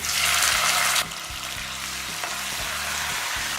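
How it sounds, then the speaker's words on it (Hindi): Chopped tomatoes fry in hot oil in a pan with browned garlic for a moong dal tadka, a loud hissing sizzle that quickly settles into a softer, steady crackle with light stirring scrapes. "अब हम टमाटर को तेल छूटने तक भूनेंगे।"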